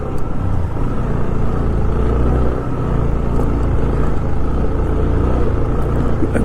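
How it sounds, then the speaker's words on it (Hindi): A Royal Enfield Bullet motorcycle climbs slowly in first gear on a rough mountain road in Zanskar valley, Ladakh, its engine a steady, loud, close rumble with a constant low throb throughout and no talking. "बुलेट चल रहा है, मेरा पहला गियर लग गया।"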